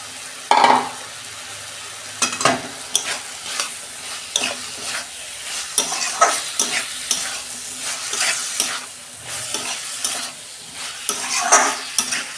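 Taro pieces hit hot oil in a pan and sizzle loudly, with repeated scraping stirs and clinks of a spatula against the pan, close and steady with no talking.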